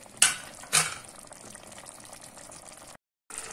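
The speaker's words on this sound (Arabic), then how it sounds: "ودابا غادي نزيد واحد الكميه ديال الماء اللي غادي يطيب فيها داك اللحم" Water poured into a pot of Fez-style meat cooking with onion and herbs for a meat and potato dish: two quick splashes, then a steady low hiss of liquid before a brief drop to silence.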